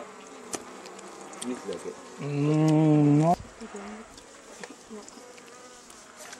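Japanese honeybees buzz during a honey harvest as combs are cut away. A close, loud, sustained drone swells for about a second amid lighter scattered buzzing, with a short spoken remark nearby.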